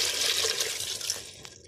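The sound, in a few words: water poured into pot of white beans (safaid lobia)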